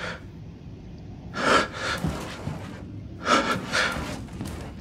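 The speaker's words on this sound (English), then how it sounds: "Bro, you're breathing way too loud." Game character in Resident Evil Village breathing heavily, two loud, close bursts of rasping, gasping breaths separated by quieter pauses, with no talk.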